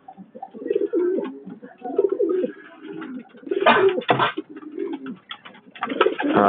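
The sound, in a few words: pigeons cooing in a loft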